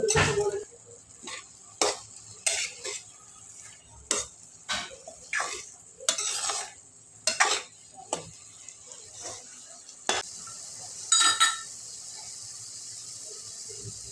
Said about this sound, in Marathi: भाजी घातल्यानंतर व्यवस्थित मिक्स करून घेऊ